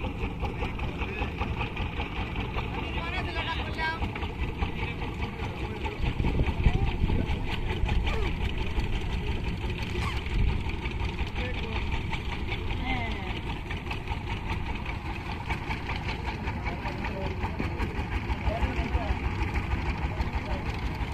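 A boat engine idling steadily at a river ferry ghat near a char between Manikganj and Tangail, a continuous close mid-pitched throbbing drone with people talking indistinctly over it throughout.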